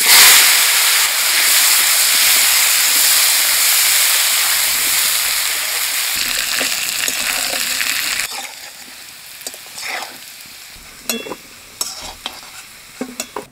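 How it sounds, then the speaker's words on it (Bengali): Potato pieces frying in oil left over from frying rui fish, a loud steady sizzle that eases after several seconds, leaving softer crackling and a few light clinks of stirring. "মাছ ভাজা তেলের মধ্যে আলুগুলো ভাজিয়ে নেব।"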